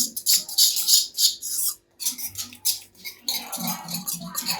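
A spoon scrapes and clinks in quick, bright strokes against a bowl while garam masala and turmeric are stirred into yogurt. Close and fairly loud, with a short pause midway.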